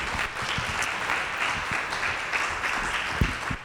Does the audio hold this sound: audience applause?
yes